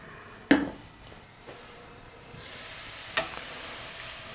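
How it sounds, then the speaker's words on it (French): Onions sweat over low heat in a covered pan, giving a soft sizzle that swells gradually, punctuated by a sharp clack near the start and a couple of lighter taps from stirring. "Feu doux et à couvert. Et faites bien transpirer les oignons."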